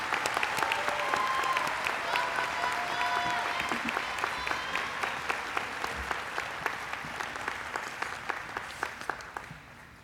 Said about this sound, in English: let's give another round of applause for the early childhood graduates, class of 2017